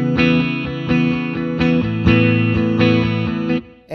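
Electric guitar with a distortion effect plays thick, sustained chords in a steady rhythm, loud and close, changing every half second or so before cutting off near the end.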